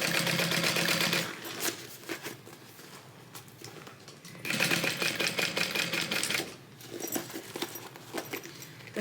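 A sewing machine stitches a tote bag in bursts of rapid, rattling needle strikes, separated by quieter pauses, up close with no talking.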